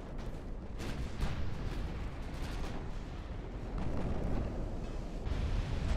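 Naval gunfire in the Ultimate Admiral: Dreadnoughts game during a Battle of Jutland engagement involving destroyers and cruisers: a dense, continuous roar of overlapping cannon booms and rumbling blasts that builds louder toward the end.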